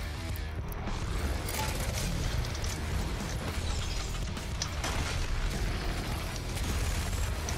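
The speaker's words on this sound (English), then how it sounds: "Explosions everywhere." Dense explosions and mechanical clatter from the DOOM Eternal video game fill a constant, loud barrage of bursts and booms with metallic ratcheting over a heavy low rumble, with no pauses.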